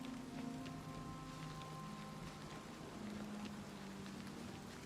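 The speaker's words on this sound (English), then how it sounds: "Nothing like the sound of rain running through a beautiful forest in Cyrodiil." Rain falls through a forest in Cyrodiil in the Oblivion Remastered video game, a steady, dense hiss of drops heard alone with some soft tonal music beneath.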